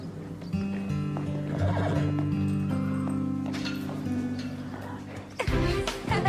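A horse whinnies loudly and at length, with hooves clip-clopping beneath and a heavier clatter of hooves near the end, close by.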